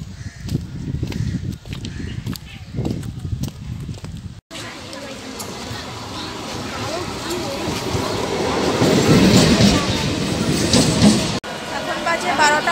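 A passenger train ride on the way to Ranaghat, West Bengal: a steady, loud rumble and rattle of the moving carriage that builds over time, with people talking and crows cawing before it.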